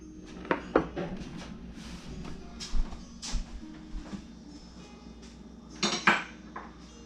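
Cake batter with cooled melted butter being mixed in a bowl: irregular clinks and knocks of a utensil against the bowl, with softer scraping between them, close and moderately quiet.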